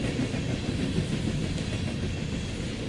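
A subway train rumbles past in a video game set at a school, giving a steady, dense clatter of wheels on track that fills the whole stretch, loud and unbroken.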